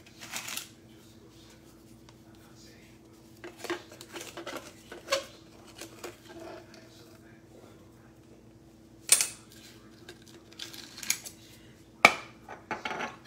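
Dry ingredients for keto corn dog batter being mixed in a bowl, producing intermittent soft scraping and clinking of a utensil against the dish, with quiet pauses between bursts and a faint steady hum beneath.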